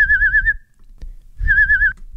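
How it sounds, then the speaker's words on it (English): A person whistles two warbling, wavering phrases separated by a short pause, clear and close, over a low background rumble. "so here's me whistling"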